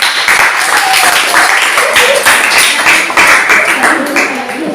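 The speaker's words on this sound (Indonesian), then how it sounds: "Tepuk tangan buat kelompok 1." A classroom group claps for a student team, with dense, steady handclaps filling the room at close range throughout, and voices mixed in under the clapping.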